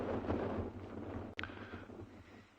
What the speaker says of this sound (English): Wind is still blowing, but it's kind of blowing in gusts now